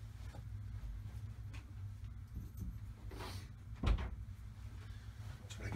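A door thumps shut once partway through in a workshop room near a workbench, a single dull knock over a steady low background hum.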